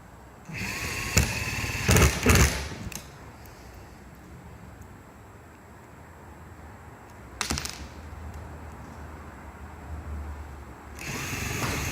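Power drill driving screws to mount a Ventline 6-inch roof fan on a shuttle bus RV conversion, with two short whirring bursts near the start, another brief burst midway and one at the end, close and loud with no talk.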